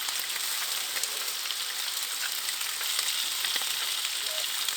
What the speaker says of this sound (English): Frying up some bacon and some leftover ribeye.